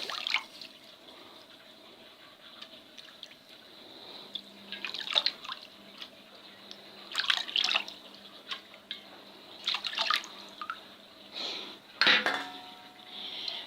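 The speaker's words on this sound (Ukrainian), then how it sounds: "Перемішуємо до повного розтворення" A spoon clinks and scrapes against a container while salt is stirred into four litres of tap water for a pickling brine, with soft liquid swishes and irregular taps at close range and no talking.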